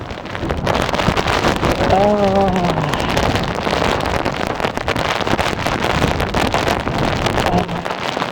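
Wind buffets the microphone and rain patters steadily as a storm rolls in over an open farm field of rapeseed, a dense continuous roar with a brief voice heard faintly in the middle.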